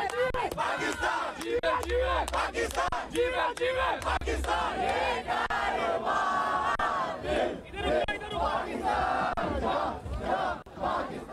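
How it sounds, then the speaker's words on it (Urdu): A Pakistani delegation in traditional dress chants Pakistan Zindabad slogans at a walking parade during the World Youth Festival 2024 in Sochi, a loud rhythmic crowd chant repeating in call-and-response waves throughout. "پاکستان زندہ باد کے فلک شگاف نعرے لگائے"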